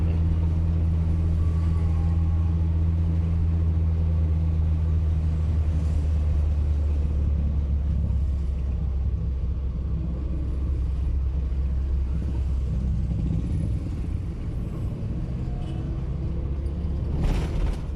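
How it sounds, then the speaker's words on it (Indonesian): A noisy 1981 Toyota Corolla DX driving through slow evening city traffic, heard from inside: a continuous low engine drone and road rumble that holds steady, then fades somewhat toward the end. "berisik banget mobil"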